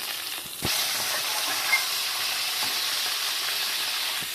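Chicken pieces washed with turmeric hit a pan of cooked onions and tomatoes, setting off a loud, steady sizzle and hiss that holds close and unbroken after an initial clatter.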